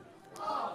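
A wrestling crowd in a sports bar lets out a short, rising cheer that swells and holds for under a second.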